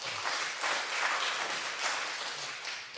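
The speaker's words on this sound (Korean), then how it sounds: "다시 한번 우리 박수 한번 치도록 하겠습니다." A church congregation at a worship service applauds together, a dense, even roar of many hands clapping that holds steady for a few seconds at a moderate distance.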